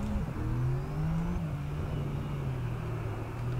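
A Porsche 911 GT3 RS driven at Laguna Seca in the game Assetto Corsa, its engine holding a steady, close droning note that sags slightly in pitch as it runs on, no talking.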